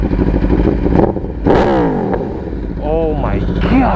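A 2018 Aprilia Tuono V4 Factory with an HP Corsa slip-on exhaust revs loudly up close, the engine note sweeping up and falling back in sharp blips over a rumbling idle.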